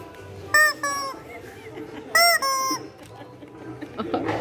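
Squawking toy chicken, a dog toy found while shopping, gives two pairs of loud, honking squeals in short bursts, with faint talk and store noise between them.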